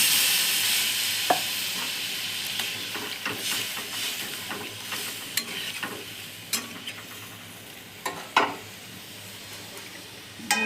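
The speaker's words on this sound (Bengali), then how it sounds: "কষানো হয়ে গেছে, এবার দিয়ে দেবো পরিমাণ মতো পেঁয়াজ।" Fried potatoes and onion being sautéed in a pan give a steady sizzle with scattered scraping stir clicks and a few sharper knocks near the end, with no voices.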